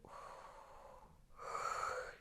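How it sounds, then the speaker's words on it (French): A person forcing a deep yawn during a relaxation exercise, with a long breathy inhale, a brief pause, then a louder drawn-out voiced exhale, close and alone. "forcez le bâillement si ça ne vient pas tout seul"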